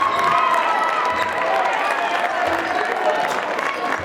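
Crowd and bench at a boys varsity basketball game in a school gym cheer and applaud at the end of a quarter, a steady roar of clapping and shouts throughout, with an announcer talking over it.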